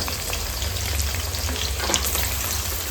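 Two chopped medium onions fry in a pan for pepper chicken with a dense, even, close sizzle over a low hum, and no talk.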